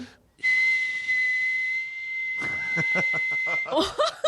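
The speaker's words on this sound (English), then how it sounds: "It's the number one thing you'd learn how to do is whistle without your lips" A single sustained, piercing whistle made through the teeth without using the lips, held steady for a few seconds, then laughter and chuckling break in over it.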